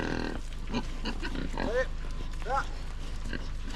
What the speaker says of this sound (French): Au revoir les cochons.